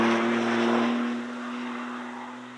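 The McLaren Artura's V6 sports car engine gives a steady, moderately loud drone that eases slightly partway through, heard alone without talk.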